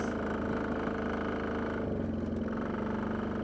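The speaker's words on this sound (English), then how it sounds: "it's a very low RPM machine, and you can just putt right along with it" Polaris Diesel 455 utility vehicle engine running at low RPM, a steady close chugging diesel rumble with regular pulsing throb and a slight change in pitch partway through, no talking.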